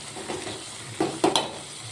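Soybean chunks cook in a masala in a pan with a soft bubbling sizzle, broken by a few quick clinks and scrapes of a spoon stirring near the end.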